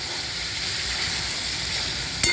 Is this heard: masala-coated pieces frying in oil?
yes